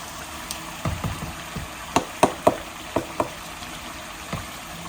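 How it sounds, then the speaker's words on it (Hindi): Tomatoes going into a hot frying pan for chicken biryani, a soft steady sizzle with a handful of sharp clinks and knocks clustered in the middle, near and alone without talk. "2-3 मिनट में मैं टमाटर इसमें डाल दूँगी।"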